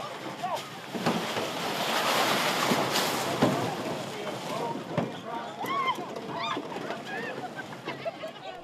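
Paddling and water sounds from a canoe race on Gunflint Lake, with lapping surf and wind buffeting the microphone, people talking and calling out over the splashy background.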